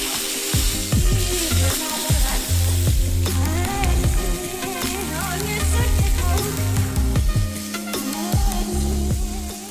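Steak searing in a hot pan, a steady loud sizzle running throughout with scattered pops and low thumps of the meat shifting, no talking.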